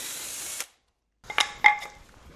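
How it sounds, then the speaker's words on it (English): A drill bores a pocket hole through wood held in a pocket screw jig in a home workshop. There is a steady whir, a sudden stop and silence, then clicks and ratcheting knocks as the tool and jig are handled. "and then drill the pocket hole."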